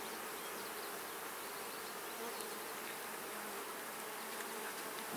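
Honey bees buzz in a steady, dense drone during the inspection of a newly installed hive, a continuous close swarm sound with no talk.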